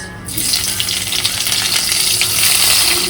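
Onion tipped into a pan of hot oil already holding cumin, chilli, bay leaf and whole garam masala, bursting into a loud steady sizzle that hisses on continuously after a brief quiet start.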